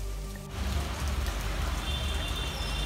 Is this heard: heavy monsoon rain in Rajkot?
yes